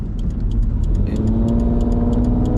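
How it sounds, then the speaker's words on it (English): Third-generation Toyota 4Runner engine with an upgraded intake revving steadily, a loud, close, continuous mid-pitched roar with a rising tone partway through, alone with no talking. "And you can really hear that intake open up"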